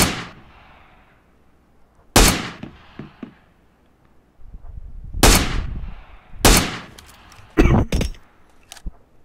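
Rifle gunfire in the PUBG Mobile video game, several loud sharp shots spaced a second or two apart, each with a booming decaying tail.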